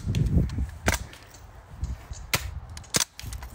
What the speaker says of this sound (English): we're out here shooting some BB guns